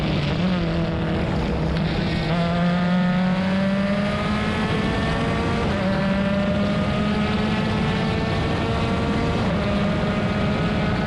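An IndyCar race car runs on a road course close behind another car, its engine screaming loudly and steadily with rising gear pitches and a constant drone of wind and track noise.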